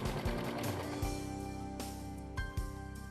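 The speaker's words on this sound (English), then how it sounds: "Be sure that the strip is caught in the seam as you serge." A Brother overlock serger runs steadily, stitching twill tape into a fabric seam, with a fast, even mechanical whir and rattle under a few faint clicks, close and moderately quiet throughout.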